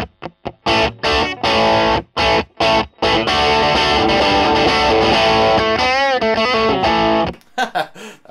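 Electric guitar through a Marshall BB-2 Bluesbreaker boost with the tone off and boost set high, playing gritty driven chords in choppy bursts, then a sustained bending lead phrase and a few clipped stabs at the end.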